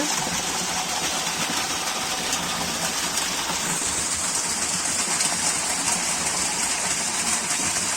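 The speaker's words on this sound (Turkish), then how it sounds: "Su dalgaları." A forest creek called Ormandere runs beside a village trail, its water flowing in a continuous, even rush close by with no voices over it.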